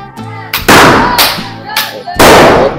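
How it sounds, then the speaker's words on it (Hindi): Several loud, close firecracker bursts, three or four sharp cracks spaced about half a second apart, each trailing into a crackling echo. "देखो कैसे पटाखे फूट रहे सब"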